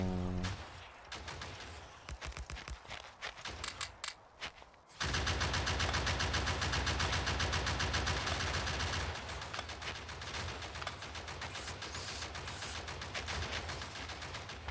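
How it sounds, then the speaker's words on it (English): Anti-material rifle fire in Krastorio 2 with Space Exploration: a few sharp separate reports at first, then a long loud barrage of rapid repeated shots that eases slightly toward the end. "Anti-material rifle."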